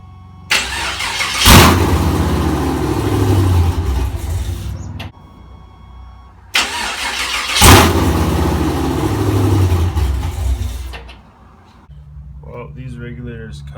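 A supercharged LS3 V8 swapped into a 1985 Buick Regal G-body fires up twice and revs hard each time, loud and close. Between the starts the engine dies back to quiet, with some talk nearby.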